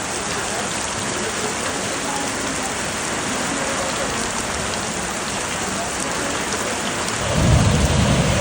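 Heavy rain pours steadily in a dense, continuous roar during a thunderstorm, and a deep rumble of thunder swells near the end.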